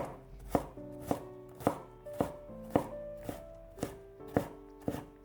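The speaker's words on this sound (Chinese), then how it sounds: "最后改刀切成小丁" A knife chops carrot into small dice on a cutting board: about ten crisp, evenly spaced chops, close and clear, each followed by a faint ringing tone, with no talking.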